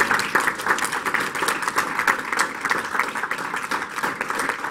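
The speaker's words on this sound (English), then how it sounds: "let's give them a round of applause for putting this all together" Audience applause at a congressional community engagement forum, a steady patter of clapping from a seated crowd that holds at a moderate level throughout without a clear peak or fade.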